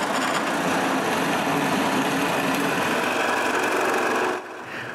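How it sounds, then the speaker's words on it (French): Scroll saw cutting a wooden pulley, a continuous buzzing, rattling motor-and-blade whine held steady and close for over four seconds, easing slightly at the end. "je fais la coupe avec la scie à chantourner"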